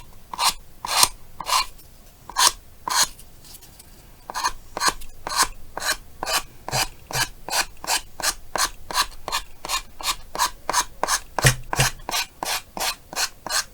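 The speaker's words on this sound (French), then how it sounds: "Vous allez prendre votre lime et vous allez venir comme ça, sur le bord." A hand file rasps back and forth along the edge of a wooden piece, steady scraping strokes repeated close-up, spaced at first and then quickening into a fast, even rhythm with no talk.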